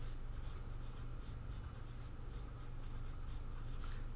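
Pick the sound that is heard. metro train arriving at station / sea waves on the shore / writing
writing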